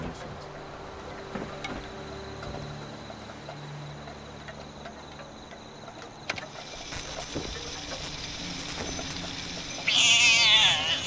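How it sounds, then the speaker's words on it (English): A cat in the video game Fallout 76 meows near the end, a brief, loud wavering call that rises over quiet game ambience and scattered soft clicks. "Kitty!"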